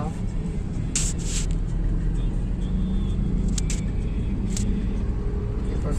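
A car drives along during a driving lesson, its engine rumbling low and steady as it picks up speed. An instructor's voice gives directions over the engine noise.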